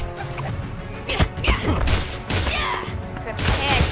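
Harley Quinn's gun fires in the iOS fighting video game Injustice 2, heard as several sharp close shots and impacts mixed with clattering crash effects, with a voice talking over them.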